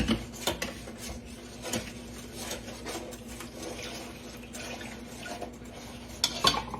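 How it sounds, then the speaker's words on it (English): Evaporated milk going into caramel icing in a pot, with faint metal clinks and scrapes of a utensil against the pan, a few sharper knocks near the end, and no talking. "We're going to add our evaporated milk."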